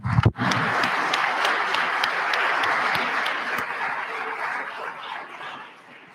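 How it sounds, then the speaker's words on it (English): Legislators standing in a state House chamber give a round of applause for teachers, a loud sustained burst of many hands clapping after a brief thump, slowly thinning and fading toward the end. "if everybody could just rise and give them a round of applause to show our appreciation for our teachers"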